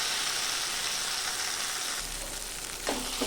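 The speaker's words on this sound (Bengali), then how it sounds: "আলু এবং সয়াবিন মশলা দিয়ে সব কিছু ভালো করে কষিয়ে নেব" Potatoes and soybeans sautéing with spices in a pan: a steady, close hiss of frying, with a brief scrape of stirring near the end.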